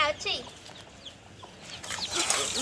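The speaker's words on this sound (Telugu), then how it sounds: "కోళ్ళు ఉన్నాయి లోపల కనబడుతున్నాయి ఆ బుడ్డి కోళ్ళ" Baby chicks inside a coop give small, faint peeping chirps that come in scattered bursts, with voices talking close by.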